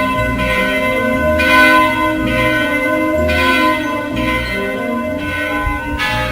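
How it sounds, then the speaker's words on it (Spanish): Cathedral bells toll seven in the evening, a steady series of rich, ringing strikes with long overlapping hum, loud and close, with no voices. "Las campanas de la catedral dan las 7 de la tarde"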